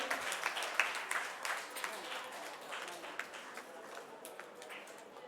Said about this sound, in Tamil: உங்களோட கைத்தட்டல் ரொம்ப எங்களுக்கு அவசியம்.